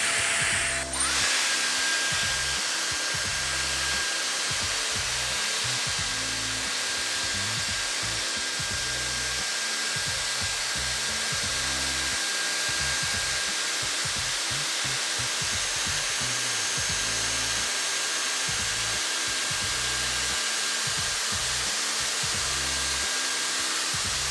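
A Dyson Airstrait hair straightener runs in dry mode with boost, a steady loud airflow hiss and motor whine lasting throughout, with a rhythmic rubbing texture from brushing through hair and no talking.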